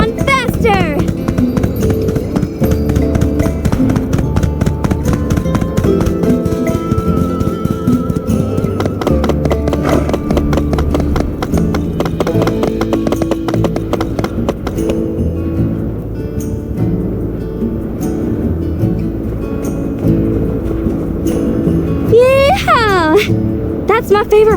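Steady clip-clop of a horse galloping in the My Time at Sandrock video game, the quick rhythmic hoofbeats running continuously over a music and ambience bed, with a whinny near the end.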